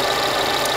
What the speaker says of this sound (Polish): Silnik jest na biegu jałowym